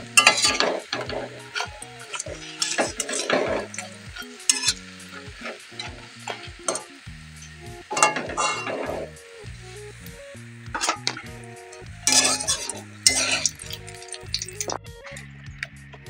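Batter-coated pui (Malabar spinach) leaves fry in hot oil, giving a steady close sizzle broken by stirring and scraping in the pan, with occasional louder bursts and no talking.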